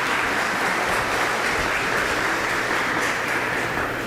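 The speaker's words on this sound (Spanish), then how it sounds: "Un aplauso, por favor." Steady applause from a conference audience fills the whole stretch, a dense, even wash of clapping with no talk over it.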